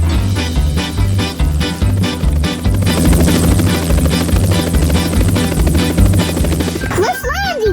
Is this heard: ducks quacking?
no